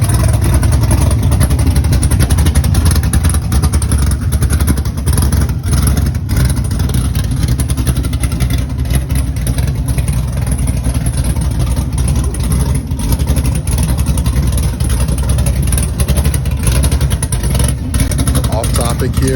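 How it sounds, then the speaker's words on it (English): A loud, lopey cammed Chevy Nova engine idles steadily with a choppy, uneven rumble, close by and constant throughout. "who doesn't love the sound of a good cam?"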